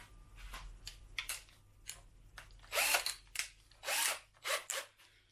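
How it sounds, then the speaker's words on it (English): A power drill set to speed control spins a homemade paddle through resin, giving repeated bursts of whirring and rattling that rise and fall in intensity over a low background hum. "Use your drill at speed control, and you can go very slow to very fast. And that's how you mix your resin."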